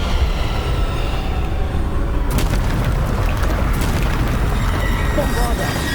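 Bombarda spell blasts in the video game Hogwarts Legacy, a loud dense rumbling boom that swells and rolls continuously, with sharper crackling bursts partway through amid busy game effects.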